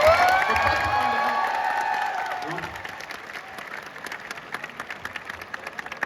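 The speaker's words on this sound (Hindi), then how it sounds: "एक बारी अपने लिए तालियां मार दो।" Audience applause and cheering at a stand-up comedy show at IIT Kanpur, a loud burst of clapping with whoops that gradually thins out, with a voice talking briefly over the start.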